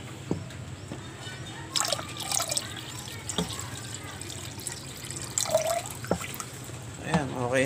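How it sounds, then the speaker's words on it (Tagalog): Water poured into a moringa leaf tea mix for pigeons, heard as intermittent drips and splashes over a few seconds, fairly close, with faint background noise. "And then lagyan natin tubig."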